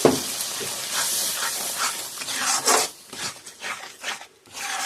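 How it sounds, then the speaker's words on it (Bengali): A spoon works coconut flesh paste and mustard-chilli paste through a sizzling prawn curry, making uneven scraping, rasping strokes over a frying hiss, some louder bursts, then a brief lull near the end. "দিয়ে আমি আবারও ভালো করে একটু মিশিয়ে নিচ্ছি"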